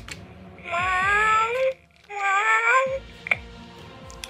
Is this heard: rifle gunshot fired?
no